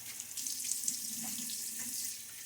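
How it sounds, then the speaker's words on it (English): Water runs from a tap into a sink while rinsing during a wet shave, a quiet, steady hiss of flowing water with soft splashes, close by and without talk. "Splash of water now."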